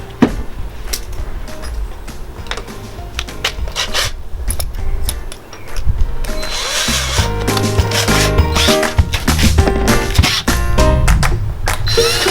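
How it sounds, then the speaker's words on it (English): Power drill boring through a wooden leg during a VW Golf camper conversion, a steady grinding, rasping whir with bursts of strain, getting louder and busier partway through, close up and with no talk. "carry on drilling through to get my hole perfectly straight"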